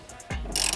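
A large ratchet works loose a stubborn seat bolt in a Camaro, a few soft clicks and then a sharp metallic ratcheting burst, close and loud.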